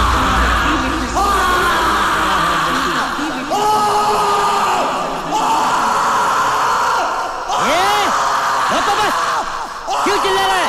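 In a Bollywood crime drama, someone shouts loudly in long, strained yells that rise and fall, with several drawn-out cries close to the listener and a busy, noisy background.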